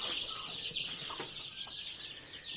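Native chickens cluck softly over a steady background hiss, with scattered short calls from the flock.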